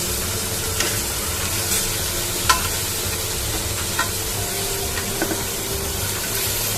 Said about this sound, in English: let the tomatoes roast for a bit more